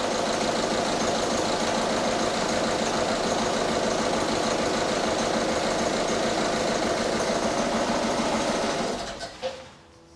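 A 2009 Ford Fiesta 1.6 diesel idles roughly after an oil change, a steady clattering knock that runs close and unbroken before cutting off abruptly near the end.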